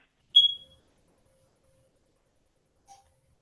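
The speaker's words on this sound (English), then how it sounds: "I thought I just heard the fire alarm go off for a second." A single short, sharp high beep from a smoke or fire alarm, clear and fairly close in an otherwise quiet room, followed by a faint second chirp a few seconds later.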